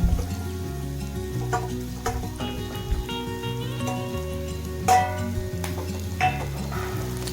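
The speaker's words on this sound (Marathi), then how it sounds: "एक एक करून आपण सर्व मसाले या करडईमध्ये टाकून देऊया" Spices fry and get stirred in a hot kadhai for street-style masala Maggi, a soft sizzle with scattered spoon clinks, largely covered by steady tonal background music.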